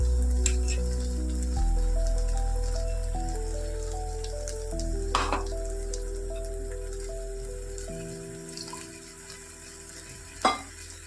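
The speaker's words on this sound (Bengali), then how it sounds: "মিক্সির বাটিতে জল দিয়ে একটুখানি ধুয়ে গায়ে লাগা পোস্তটা জল সমেত দিয়ে দেবো এর মধ্যে" Poppy seed paste thinned with water is poured into okra frying in a pan for a Bengali bhindi posto, giving a steady soft sizzle that gradually fades. A faint tonal hum sits beneath it, with a couple of sharp clinks near the end.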